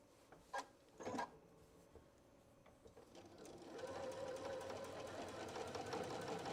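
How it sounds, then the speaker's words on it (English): Sewing machine stitching woven linen lining on a tote bag, starting after a few faint handling knocks and then running as a steady, quiet mechanical whir for the final few seconds. "And then we're stitching up that opening there as we come across."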